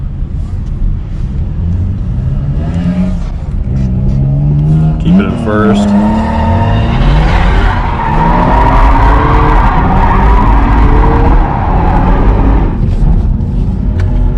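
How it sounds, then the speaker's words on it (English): An automatic V6 Camaro does donuts in a track's open area, its tires skidding and squealing loudly over a revving engine that rises and falls throughout, with a person speaking briefly over it. "So I'm gonna try to do some donuts in this car."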